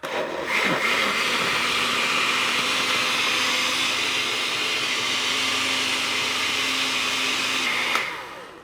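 A blender grinding chiles whirs loudly and steadily for several seconds, a continuous grinding drone with a steady pitch, then cuts off abruptly.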